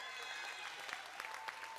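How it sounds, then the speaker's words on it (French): Faint audience applause for a president at a festival gathering, a scattered clatter of claps with a few sharper hand strikes over low background noise. "On applaudit pour le président des idées."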